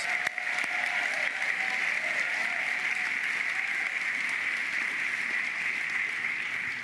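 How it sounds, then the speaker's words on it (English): Retirees at a county school retirement ceremony receive sustained applause from the audience, an even, continuous wash of clapping that stays at a constant level throughout, heard from some distance in a large hall. "Let's give our retirees a big round of applause"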